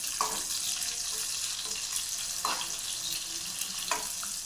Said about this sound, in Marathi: आणि हीच आता याच्यामध्येच टाकायचा आपण हा कांदा. हा पण थोडा फ्राय करून घ्यायचा